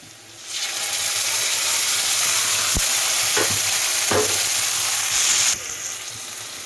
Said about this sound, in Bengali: এবার মশলাকে ভালো করে ভাজিয়ে দেবো